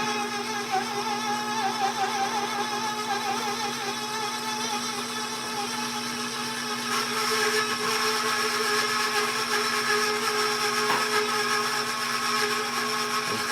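An electric mixer whirs through chocolate cake batter in a cast iron pan, a steady, loud motor whine with a rattling hum that shifts slightly in pitch as it runs continuously, no talking.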